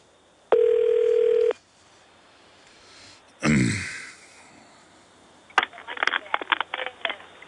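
A telephone line plays a steady dial tone for about a second, followed by a throat-clearing noise and then a burst of rapid touch-tone dialing beeps during a call to the Department of Homeland Security's main number.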